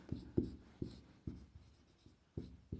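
Chalk or a marker scratches across a board during a physics lesson on refraction of light, a series of distinct, separate strokes landing about every half second, close and quiet.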